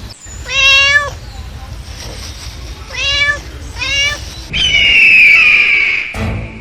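A cat meows three times in close succession, then lets out a longer, higher drawn-out cry, loud and close against a quiet background.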